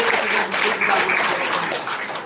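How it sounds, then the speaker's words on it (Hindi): A crowd at a Chhattisgarhi language day gathering in 2024 claps hands together in a brisk, busy patter that pulses slightly but keeps going steadily through the short stretch. "ताली बजाइए"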